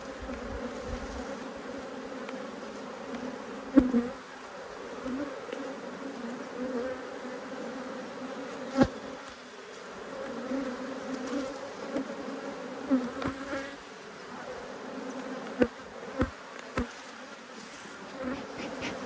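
Agitated honey bees swarming around an open hive during an inspection, a continuous dense buzzing with individual bees zipping close past at intervals, no talking.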